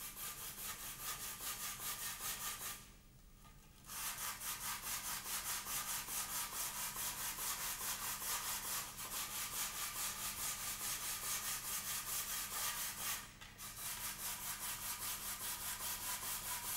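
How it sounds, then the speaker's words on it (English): Abrasive cloth rubs steadily over the bed of a carbon wheel rim, a dense, even back-and-forth scraping that runs for many seconds with two brief pauses, close and alone. "The rim bed is sanded intensively with the abrasive cloth."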